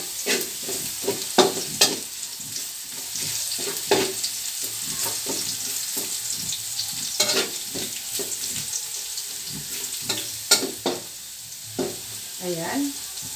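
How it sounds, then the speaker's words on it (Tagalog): Garlic sizzles in a hot pan for breakfast bihon while a utensil scrapes and clacks against the metal in irregular strokes, close up over a steady frying hiss. "halo-haloin lang natin hanggang sa mag-brown ang ating bawang"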